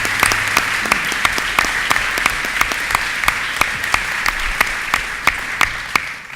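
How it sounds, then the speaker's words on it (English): Applause from the audience at a governor's press event on Long Island coastal resiliency, steady clapping throughout with sharp individual claps standing out near the microphone, thinning toward the end. "Let's give him a round of applause."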